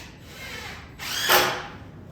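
A cordless drill drives a screw into wood while a pasture chicken tractor frame is built, with a softer whirring run followed by a louder, tightening burst before the motor winds down.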